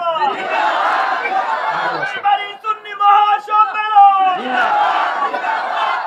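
A large crowd at an Islamic religious gathering loudly shouts marhaba in unison, a roaring group chant that swells, dips briefly in the middle with a few scattered voices, then surges again.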